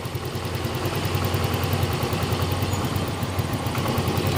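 A Yamaha Mio Z scooter engine, running rough and lacking power, holds a steady, loud buzzing rev close up during a tuning test, with a fast pulsing throb and no talk over it.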